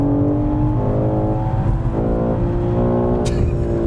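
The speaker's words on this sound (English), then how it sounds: "Give me some fake engine noise, Jack." Synthetic engine noise piped through a car's speakers, a continuous harmonic drone that rises and swells like revving, loud and close, with a brief sharp click near the end.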